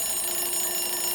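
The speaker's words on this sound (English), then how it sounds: "Kareem's alarm starts to beep." An alarm clock goes off in a bedroom in the early morning, a steady electronic ringing tone held at even loudness for about a second before cutting off abruptly, with no voices over it.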